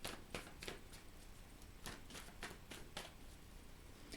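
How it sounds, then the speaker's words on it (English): Tarot cards being shuffled by hand, a quiet, close series of crisp riffling flicks repeating at an uneven, steady pace over a soft background hiss, with no talking. "I'm going to shuffle one more time"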